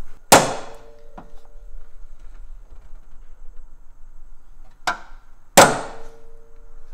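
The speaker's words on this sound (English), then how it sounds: "we're just gonna use a good old fashioned center punch" Sharp metallic clangs of a hammer striking a center punch into car spot welds, three main ringing hits spaced apart with quiet between, plus a lighter tap.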